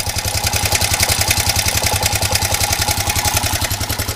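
Car engine idling with bad valve train clatter, a steady low rumble carrying a fast, even ticking rhythm throughout, close and fairly loud with no talking.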